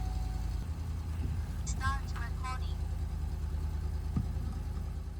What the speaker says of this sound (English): I had to start up the truck in this case to get it to power up